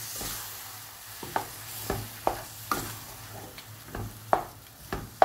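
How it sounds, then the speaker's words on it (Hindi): Urad dal roasting in a pan over a medium flame, a soft sizzle under a series of separate scraping stirs roughly every half second, close and fairly quiet, with no talk. "मीडियम फ्लेम पे दाल को हम भून लेंगे अच्छे से।"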